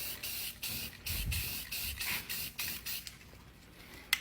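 Spray paint hisses onto the underside of a 1969 Dodge Charger in short repeated bursts with brief pauses between them, fairly close and moderately quiet, ending with a couple of small clicks.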